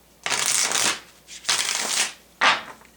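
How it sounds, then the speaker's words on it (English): Three rounds of shuffling a tarot deck, the She Who deck, whose cards feel soft: crisp, papery riffles up close, each lasting under a second, with short quiet gaps between and no talk. "So we're going to give it one more shuffle like this and then we'll pull the card."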